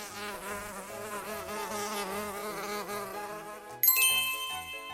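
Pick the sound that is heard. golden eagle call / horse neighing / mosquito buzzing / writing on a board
mosquito buzzing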